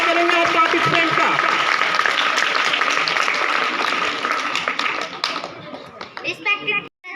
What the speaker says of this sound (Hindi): जोरदार तालियों से स्वागत करेंगे आप पार्टिसिपेंट का।